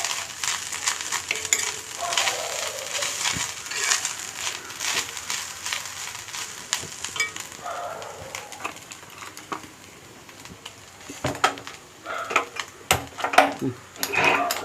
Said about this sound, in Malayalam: കരിവേപ്പിൻ്റെ ഇല ഇട്ട് കരിവേപ്പിൻ്റെ ഇല വറവിനിട്ടിട്ടുണ്ട്.